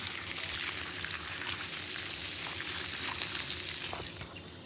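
Water pours onto garden plants, including dried-out vegetable plants and mango, sapota and sweet lime trees in summer, heard as a steady, faint rushing splash alone.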